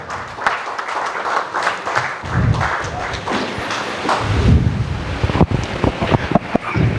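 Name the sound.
audience applause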